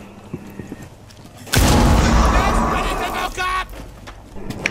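A thrown bomb in Rainbow Six Siege detonates as a sudden heavy boom with a long rumbling, crackling decay, while faint background game sounds surround it.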